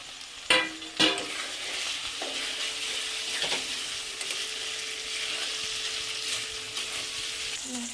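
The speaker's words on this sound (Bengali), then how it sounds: "আদাটা একটু নেড়ে নিই পেঁয়াজের সঙ্গে, নিয়ে আমি এই টমেটোগুলো দিয়ে একসঙ্গে আরেকটু ভালোভাবে ভাজবো।" Ginger paste and onions sizzle steadily in a pan for chicken malai, with a couple of sharp spatula knocks near the start and light scraping stirs throughout, close and moderately loud.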